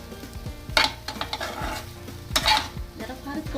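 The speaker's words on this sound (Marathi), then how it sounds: "आता हे फोडणीचे पोहे होत आहेत." A spoon scrapes and clinks against a pan while stirring tempered poha over a low gas flame, with two sharper scraping strokes standing out above a soft, steady sizzle. No one speaks.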